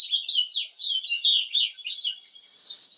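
A male house finch sings in spring, a bright, continuous warbling song of rapid, high twittering notes, close and clear with no other sounds.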